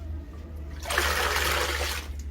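Water is poured into a dirty toilet bowl in a sudden close gush lasting over a second, then tapering off, over a low steady hum.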